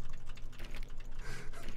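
Keyboard typing runs steadily through the whole stretch as a dense, continuous clatter of quick key taps, fairly close and loud, with no talking over it.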